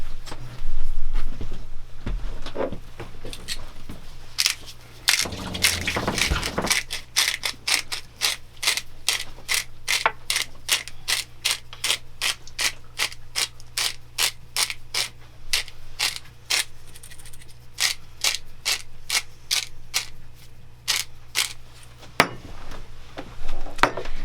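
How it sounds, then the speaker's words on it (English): Pepper mill grinding pepper over pan-roasted chicken in a home kitchen, a long run of rapid, evenly spaced ratcheting clicks and crunching turns, close and fairly loud, with a brief rustling burst partway through and no talking. "And I'm going to have Jim come and grind the pepper."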